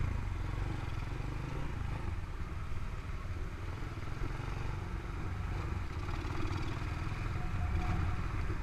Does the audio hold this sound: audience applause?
no